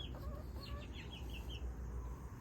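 A rooster and hens cluck softly on a farm at dusk, a few short faint calls over a low background rumble.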